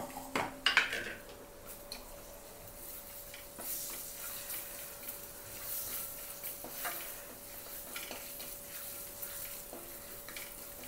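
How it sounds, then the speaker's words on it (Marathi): Ground green masala fries in about four spoons of hot oil for green anda masala and is stirred with a utensil, giving a steady soft sizzle and scraping under a couple of clinks at the start. "मसाला परतायचा तेलात चांगला।"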